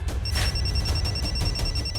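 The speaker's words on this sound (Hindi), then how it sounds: "घंटी हाँ बज रही है, बज रही।" A telephone bell rings in short, rapid, steady trills indoors, a thin high tone pulsing continuously over a low background rumble.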